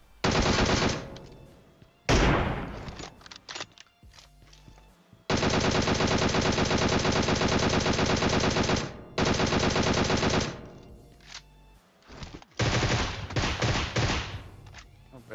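Repeated bursts of automatic and sniper gunfire in the PUBG Mobile game, loud and close, with long sustained volleys broken by short pauses and single heavy shots.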